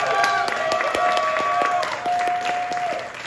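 Audience at a live music gig at the Blue Strawberry clapping, crisp individual claps ringing out over a lingering sustained tone, fairly close and steady throughout.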